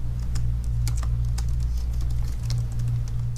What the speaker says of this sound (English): So you can see as I'm typing